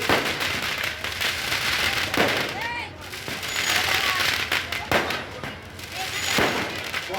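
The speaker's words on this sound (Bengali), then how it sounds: "আতশবাজি" Fireworks and firecrackers go off at a Basanti Puja festival: a string of sharp pops and bangs, with rising whistles between them, over a crowd murmur and voices nearby.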